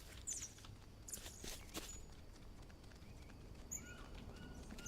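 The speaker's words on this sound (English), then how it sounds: "I hear footsteps." A pig walks through a jungle base in the Green Hell video game, a few faint scattered footfalls among soft ambient forest sounds and occasional bird chirps.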